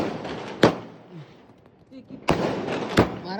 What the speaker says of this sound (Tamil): ஸோ இதுதான் வந்து லாஸ்ட்டு பட்டாசு.